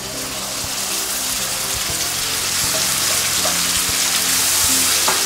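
Tomato puree hitting onions frying in a pan, a steady loud sizzle with wet bubbling that builds slightly as it cooks, alone without talk.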